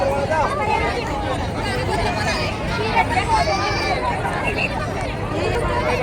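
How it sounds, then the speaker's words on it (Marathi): Dense babble of a large crowd of chatting people at a community meal during a Bhim Jayanti and Buddha Purnima celebration, a continuous, loud murmur with overlapping voices close by. "एकदम भरपूर गर्दी आहे."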